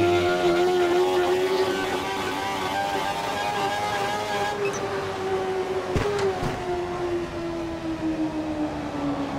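Formula 1 race car engine in the F1 2012 video game at Kuala Lumpur, a steady droning whine that slowly falls in pitch as the car eases through a corner, loud and continuous with no talk.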